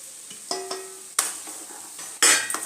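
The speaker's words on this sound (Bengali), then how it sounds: "ভালো মতো আলু আর ছোলাটাকে মশলার সাথে কষিয়ে নেব" Boiled chickpeas and potatoes being sautéed with spices in a pan, with a few separate bursts of stirring and scraping, each flaring into a short sizzle, close and alone.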